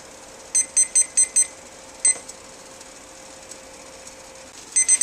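A kitchen timer goes off while dehydrated food-storage pudding cooks, giving a bright run of five quick beeps, one lone beep, then three more, loud and close over a quiet room.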